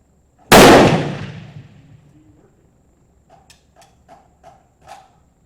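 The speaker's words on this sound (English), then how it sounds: "I'm going to shoot the target on the right." A Remington rolling block Model 1897 #5 rifle in 7mm Mauser fires a single test-load round at a target: one loud, sharp crack with a long decaying tail, followed by a few faint clicks.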